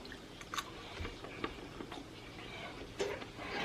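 Someone chews cooked carrots that still have a little crunch, served with a seasoned pork chop cooked in cast iron, giving soft, close, irregular bites and crunches with no talking.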